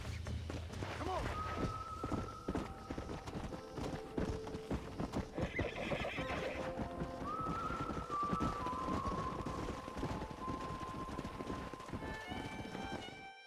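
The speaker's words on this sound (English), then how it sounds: "We got some fine horses." Horses in Red Dead Redemption whinny repeatedly over steady galloping hoofbeats, with clear clip-clops running through the whole stretch and spoken voices mixed in.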